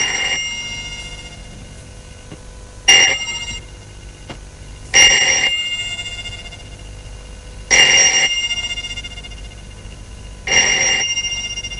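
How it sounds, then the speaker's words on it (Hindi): A telephone rings late at night, with four loud bursts spaced roughly two to three seconds apart over a low background hum. "ये किसका फोन हो सकता है?"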